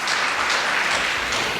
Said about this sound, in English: Kindly clap for yourself.